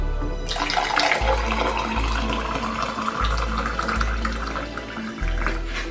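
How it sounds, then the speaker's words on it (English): Steady pouring of water from a kettle, a continuous splashing stream with a low gurgling pulse as the vessel fills, close and fairly loud. "Then I'll add my hot water."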